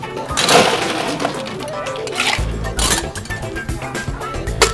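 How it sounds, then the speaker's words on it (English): A solid block of ice dropped into a cocktail glass gives a loud clinking, shattering crash followed by scattered clinks and rattles. "get myself a solid block of ice. I get my ice back in my initial glass."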